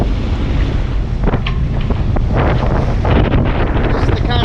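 Strong wind rushes across the microphone aboard a sailboat at sea, a steady loud roar with gusty bursts and some water noise, continuous throughout with no one speaking.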